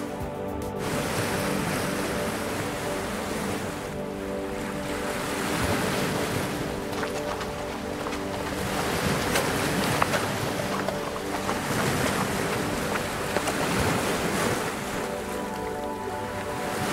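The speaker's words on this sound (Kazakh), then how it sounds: "Әдемі теңіз, я?" Caspian Sea waves roll and wash continuously close by, mixed with strong wind buffeting the microphone. No voices are heard.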